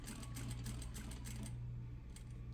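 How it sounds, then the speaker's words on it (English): A sewing machine stitching a fabric patch pocket runs in a steady, rapid mechanical chatter, close and continuous, easing slightly toward the end. "I'll proceed to sewing until I get to the edge of the fold"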